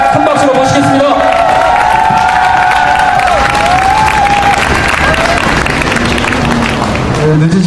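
At a Korean protest rally over Ssangyong, a crowd bursts into loud, sustained applause and cheering close by, with scattered shouts and voices mixed into the clapping.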